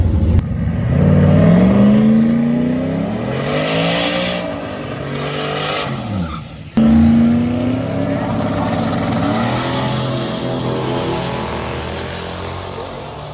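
A drag race car roars down the track, a loud close engine howl rising in pitch as it accelerates, cut off and followed by a second surge of engine noise that carries on steadily.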